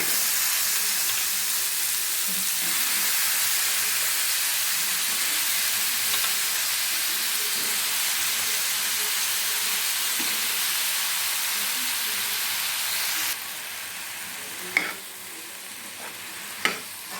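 Cut brinjal pieces frying in hot masala for vankaya sanagala curry, a steady loud sizzle and hiss with stirring throughout, dropping in level near the end where a couple of sharp utensil knocks stand out.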